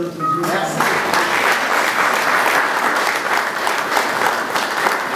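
Loud, sustained applause from a church congregation fills the room, with crowd noise and scattered voices mixed in as the clapping swells and carries on steadily.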